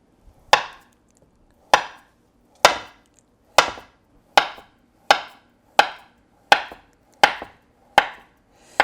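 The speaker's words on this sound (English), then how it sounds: "I'm going to slice that into about 1/4 inch" A knife slicing through a log of chilled Swedish butter cookie dough into rounds, striking the board ten crisp times at a steady, slightly quickening pace, close and clear with near silence between cuts.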